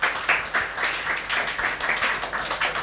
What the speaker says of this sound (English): please give a round of applause for yourselves as well